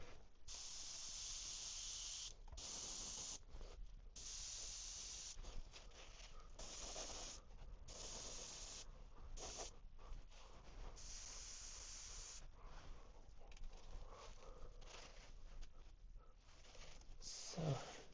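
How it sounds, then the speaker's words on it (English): An airbrush sprays silver paint over a 3D-printed brown trout lure, a steady close hiss broken into repeated bursts of a second or two with short pauses between. "So now I've added the silver, and we're going to go from an angle and"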